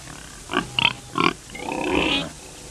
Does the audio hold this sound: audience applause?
no